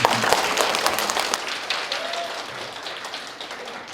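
Attendees at the closing of a university graduate school's international academic conference applaud the staff team leaders, a moderately loud patter of clapping that gradually fades.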